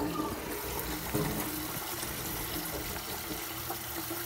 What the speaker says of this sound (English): And I just turn the water on.